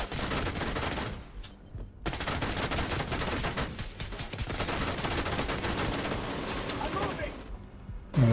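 Video game turret firing rapid, dense volleys of gunshots in sustained bursts with two short pauses, loud and close, while a voice talks now and then underneath.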